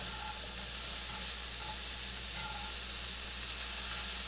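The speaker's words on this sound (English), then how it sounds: "the mushrooms are starting to cook" Mushrooms sizzling in a hot pan, a steady dense hiss of frying throughout, even and continuous with no talk.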